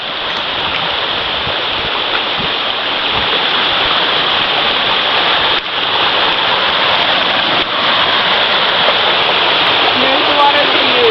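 Water rushing in a strong, steady flow to turn an iron works' overshot water wheel, a loud continuous hiss and roar close by, broken only by a couple of brief dips, with a voice speaking over it.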